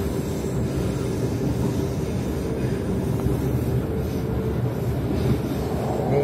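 A Gajayana passenger train rolls through a big curve as it nears Tulungagung station, with a steady loud rumble and rattle heard from inside the carriage.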